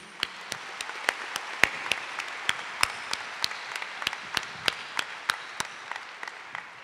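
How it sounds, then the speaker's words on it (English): A crowd at a university convocation ceremony applauds steadily for several seconds, dense clapping with a few sharper, louder claps standing out through the sound. "may I have a big round of applause for these senior leaders"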